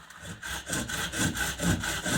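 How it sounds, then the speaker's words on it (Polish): A hand saw cutting through the trunk of a Christmas tree being taken apart, with steady rhythmic back-and-forth rasping strokes about two per second, close and loud, with no talking. "Daj pile szansę na to, żeby piłowała, czyli siłą zębów"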